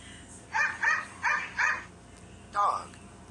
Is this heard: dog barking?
yes